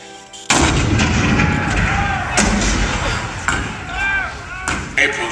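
Cannon fire booms at Fort Sumter in the Hall of Presidents show, a loud close blast followed by further heavy reports and rumbling echoes over a dramatic soundtrack.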